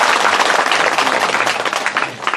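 Audience applause during the final day of a Shreemad Bhagwat Puran katha recitation, a dense steady wash of many hands clapping close and loud throughout.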